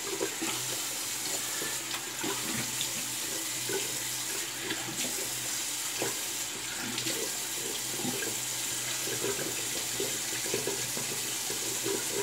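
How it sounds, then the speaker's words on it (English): Running tap water splashes steadily into a sink as a Rockwell 6S razor blade is rinsed, a close continuous rush with faint clicks and clinks from the razor. "Loosen them up here and rinse that blade."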